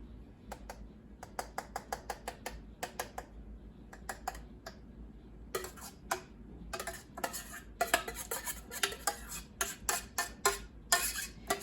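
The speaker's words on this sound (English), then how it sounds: "Spread this chili around." A utensil spreads chili sauce over enchiladas in a pan, making a quiet run of light clicks and taps against the dish, which grow busier toward the end over a low background hum.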